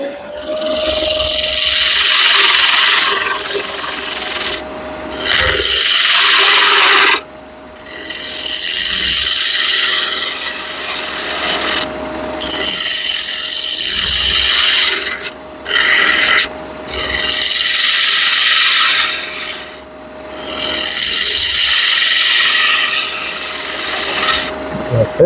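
Wood being turned on a lathe, a gouge cutting down the handle of an ice cream scoop, gives loud rasping bursts of cutting in repeated passes with short pauses between them over a steady motor hum.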